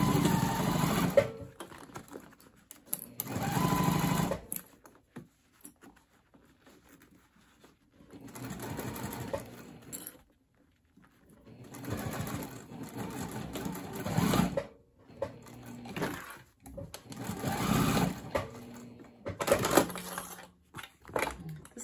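A sewing machine stitches the interior of a crossbody bag with its gusset side up, running in several whirring bursts of a few seconds each, separated by quiet pauses, close and moderately loud.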